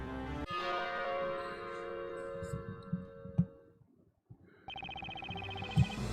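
A bell in the Professor Layton vs. Phoenix Wright video game rings out with a sustained, resonant tone that slowly decays, followed by a soft clicking and another brighter chime after a brief silence.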